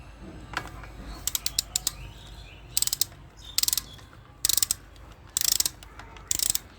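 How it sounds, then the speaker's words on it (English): A 16 mm socket ratchet clicks in short repeated bursts while loosening the spark plug on a Bajaj Discover motorcycle engine during a rebuild, close and clear with quiet pauses between strokes. "here I am using a 16 mm socket. So you can see here I am removing this spark plug."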